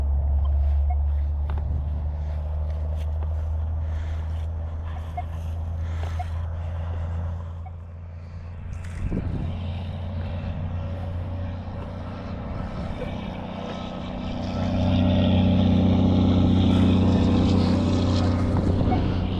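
Continuous low rumble of traffic from a big road beyond trees at a Civil War battleground, steady throughout and swelling louder toward the end, with a few faint clanks in between.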